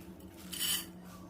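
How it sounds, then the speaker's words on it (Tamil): Nuts tumble into a metal kadai for roasting, one brief close rattling scrape and clatter swelling and fading within a second or so, without speech. "இப்போ அதே கடாயில் நம்ம இந்த நட்ஸை பூரா நம்ம போட்டுக்கிடுவோம்."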